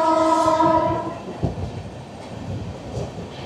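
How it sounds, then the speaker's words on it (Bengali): Humsafar Express passenger train passing Kasimbazar station at night, opening with a loud sustained horn blast, then rumbling wheels and rhythmic clatter continuing close by. "রাত 2:44 আমাদের হামসাফার এক্সপ্রেস পার করছে কাশিমবাজার স্টেশন।"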